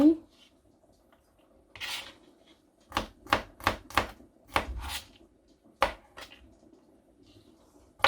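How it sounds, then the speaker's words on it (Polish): A knife cutting garlic into thin slices on a board, a run of about eight sharp, close chopping taps in quick succession after a couple of quieter scrapes, no talking. "czosnek w plastereczki."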